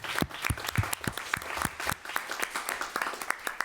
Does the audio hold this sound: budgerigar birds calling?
no